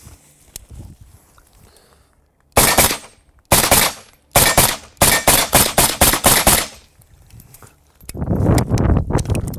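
A short-barreled VZ. 58 rifle firing a string of loud, close shots: two single reports, then a rapid run of about eight sharp cracks in quick succession, followed by a rumbling rustle.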